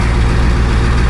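A school bus engine, International Thomas, idles steadily at about 1,000 RPM after a cold start, with a continuous low, even rumble that holds loud and close throughout.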